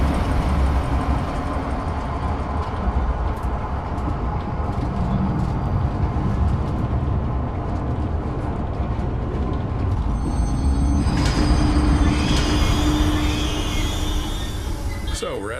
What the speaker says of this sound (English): select the giraffe enclosure on the control panel and start the train.